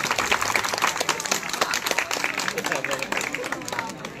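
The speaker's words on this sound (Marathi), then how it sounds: "जोरदार टाळ्या झाल्या पाहिजे." Villagers gathered at a Republic Day event at a Zilla Parishad school break into dense, steady applause. The clapping is close and continuous, with faint crowd murmur underneath.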